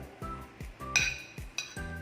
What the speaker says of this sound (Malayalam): ഞാനിപ്പോൾ 2 തക്കാളി അതായത് ഒരു ചെറിയ ജാറിലോട്ടേക്ക് ഇടുന്നുണ്ട്.